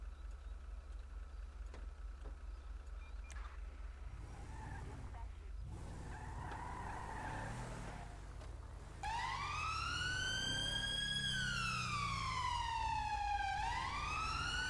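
A police dog unit vehicle sounds its wailing siren during a blue light demonstration, the loud rising and falling tone starting suddenly after engine and road noise, with people talking early on.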